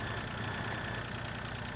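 A tractor engine idles in Farming Simulator 2013, a steady, even drone of moderate loudness with a faint knocking texture and no speech.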